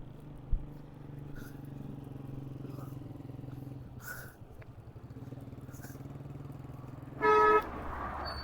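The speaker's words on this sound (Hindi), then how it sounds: "एक बाइक रुकी है, पता नहीं क्यों।" On a highway beside a spinach field, a motorbike idles and stops close by, its engine a low steady putter, and a short, loud horn honk sounds near the end.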